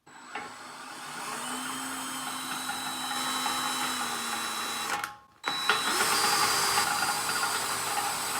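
A power drill bores holes in a steel frame part of a CNC router, a steady whining hiss with a faint tone, briefly cutting out and then resuming at a slightly higher, rougher pitch.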